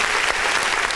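Applause effect triggered from a clap button, a dense burst of clapping filling the whole moment at steady, close, even loudness with no voices.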